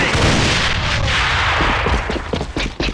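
Explosions and heavy gunfire fill a shooter game, a loud, sustained roar of blasts and rapid shots that grows choppier toward the end.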